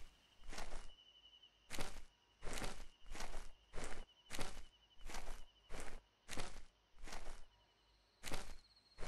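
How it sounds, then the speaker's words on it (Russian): Footsteps in the video game Eleusis, about a dozen evenly paced crunchy steps at moderate volume, each one distinct, over a faint steady insect-like hum. "Видимо, мои собственные шаги."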